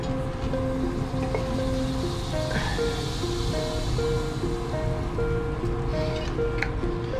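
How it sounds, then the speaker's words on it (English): Liquid nitrogen is poured into a dewar on a Schlenk line, giving a continuous loud rushing and hissing roar with faint bubbling and clinks throughout. "now that we have this all pumped down, we can now add our liquid nitrogen cryogen."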